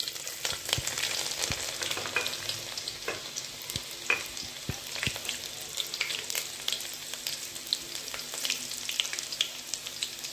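Garlic fries in a mustard seed and cumin tempering, making a steady, fairly quiet sizzle scattered with sharp spattering pops throughout, with no talking.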